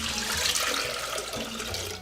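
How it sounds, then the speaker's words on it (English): Water poured into a pot while making Saudi-style coffee, a steady close splashing stream running without pause for about two seconds. "we're going to add 1 liter of water"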